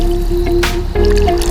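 A rainbow trout goes back into a Connecticut stream, the Hockanum River: a short wet squish and splash with dribbling water rises over a loud, steady outdoor hum.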